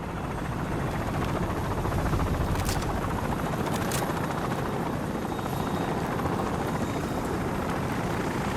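A helicopter's steady rotor thump and engine roar fill a Call of Duty escape sequence, loud and continuous throughout with no voices.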